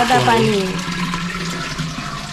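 Ordinary tap water pours and splashes into a clay pot at close range, a steady watery rush that fades slightly over a couple of seconds.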